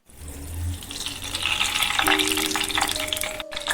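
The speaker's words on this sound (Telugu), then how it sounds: "కరివేపాకు వేసి తాలింపు పెట్టుకున్నాం" Curry leaves, chana dal, mustard seeds, dried red chillies, garlic and fenugreek seeds crackle and sizzle in hot oil for tempering Godavari-style ginger chutney, a loud steady frying hiss with a brief pop near the start.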